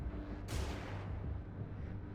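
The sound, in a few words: flashbang grenade exploding in the video game Xenonauts 2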